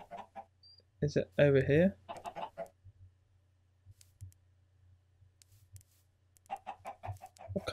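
Minecraft chickens cluck in a short burst of sharp, close calls, with someone talking around them and a steady low hum underneath.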